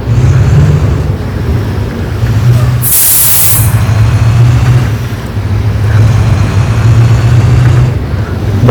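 Bus driving and overtaking in Euro Truck Simulator 2, a loud continuous engine drone with steady road rumble, briefly cut by a sharp hissing burst partway through.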